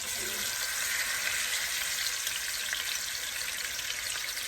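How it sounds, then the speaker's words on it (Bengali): Rupchanda fish frying in hot oil gives a loud, continuous, close-up sizzle with a bright crackling hiss that holds steady throughout. "তেল গরম হয়ে গেছে মাছ ভাজতে চলে এলাম"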